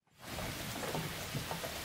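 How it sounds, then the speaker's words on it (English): Rain falling in a yard in North Georgia, a steady, close hiss of drops that swells in quickly and then holds at an even level throughout, with no voices. "That is the sound of rain."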